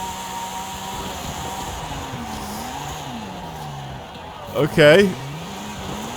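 A drift car in Forza Horizon 5 spins its wheels, the engine revving and wavering under a continuous tire noise, with a short squealing burst near the end while someone speaks briefly.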